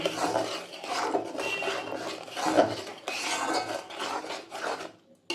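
A spoon stirs and scrapes mustard spice paste in a pan for a Kolkata-style mustard pabda fish dish, with rhythmic metallic scraping and clinks close up, ending abruptly.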